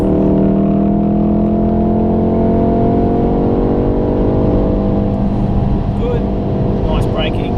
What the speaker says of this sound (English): And then out we go, full throttle.